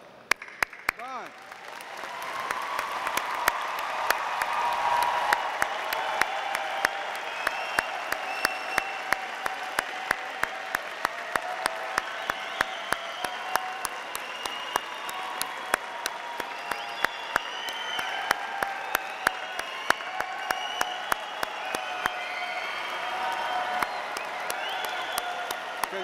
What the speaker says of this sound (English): please stand for a final round of applause?